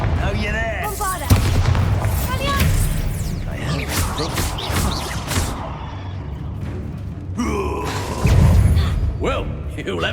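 Spell-blast explosions from the Bombarda and other combat spells in Hogwarts Legacy, with several booming impacts and crackling bursts mixed under shouted voices and game dialogue.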